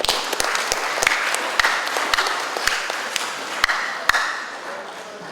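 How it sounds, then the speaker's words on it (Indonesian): An audience at a mosque groundbreaking ceremony claps steadily in a dense, sustained round of applause that carries evenly throughout, with a few sharper individual claps standing out near the front. "Oleh karena itu sekali lagi kita aplaus pada beliau"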